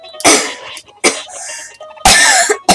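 A person coughing close up: three harsh, loud bursts spaced about a second apart, with a trailing throaty sound after the second and a short final hack at the end.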